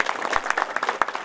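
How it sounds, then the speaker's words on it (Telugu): An audience at a Sevalal Maharaj Jayanthi celebration in Nizamabad claps for a guest on stage, a short burst of dense, uneven hand claps at close range. "గణేష్ బిగాల గారికి మరొకసారి గట్టిగా చప్పట్లు కొట్టండి."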